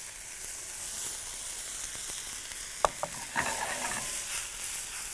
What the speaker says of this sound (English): We're going to add our mushrooms.